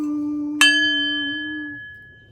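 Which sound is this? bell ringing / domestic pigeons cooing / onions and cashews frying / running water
bell ringing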